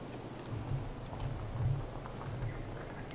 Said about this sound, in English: the storm seems to have calmed a lot